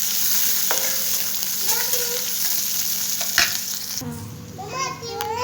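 Onion, finely cut green chillies and garlic cloves fry and get stirred in a pan for sprouted moth bean usal, a steady close sizzle with spoon scrapes, while a voice chatters in the background.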